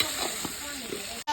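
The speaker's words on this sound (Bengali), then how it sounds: "তারপরে পেঁয়াজটা ভেজে নেবো, ভেজে নিয়ে মশলা দিয়ে দেবো একে একে" Onions sizzle in hot oil in a pan with salt added, a steady close hiss with soft crackles under a voice speaking, cut off abruptly at the end.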